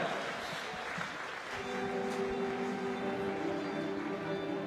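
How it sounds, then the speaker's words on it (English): Arena crowd applauding a medal winner at a para swimming world championships finals night in Glasgow, steady broad clapping with cheering, while tonal music like an anthem rises partway through. "a round of applause for your medal winner"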